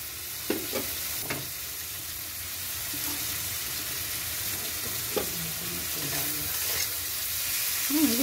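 Onions sizzle in a pan as they fry and are stirred now and then, a moderate steady hiss with a few light scraping knocks and no voices.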